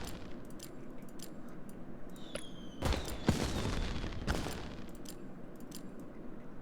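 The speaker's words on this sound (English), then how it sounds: "There, lots of fireworks going on." Fireworks in the strategy game Rise to War, with a crackling burst of pops and bangs clustered in the middle, over a steady bed of game ambience and sparse high chimes.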